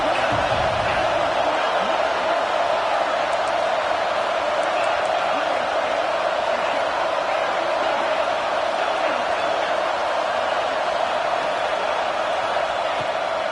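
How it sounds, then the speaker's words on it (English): Stadium crowd noise from a Madden football video game, a steady dense roar of cheering held at an even level through a third-down red-zone play. "this crowd is at fever pitch"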